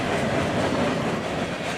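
A Norfolk Southern freight train led by GE locomotives, a C40-9W and a 2008 ES44AC, rolls past at close range as a steady, loud rumble with rail clatter throughout.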